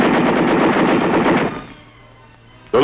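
Weapons on a fighting vehicle fire on the test range at Aberdeen Proving Grounds: a loud, rapid machine-gun burst of about a second and a half, then a short lull before another blast begins.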